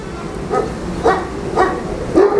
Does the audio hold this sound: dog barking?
yes